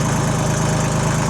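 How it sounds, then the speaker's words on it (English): A 1991 Kubota tractor with a D1102 three-cylinder, 25-horsepower diesel engine idles close by, giving a steady, rhythmic low chugging with no voices. "Equipped with Kubota's D1102 3-cylinder diesel engine, this thing produces 25 horsepower and about 57 pound-feet of torque."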